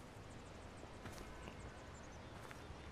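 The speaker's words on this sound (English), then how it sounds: "I hear footsteps." Footsteps in Spider-Man PS4 during the Taskmaster fight: quiet, quick repeated thuds under a steady background rumble.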